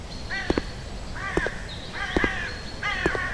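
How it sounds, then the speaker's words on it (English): Crows caw repeatedly in a horror video game set in daylight, four clear harsh calls at a steady pace with a faint background hum. "It is the wonderful sounding birds."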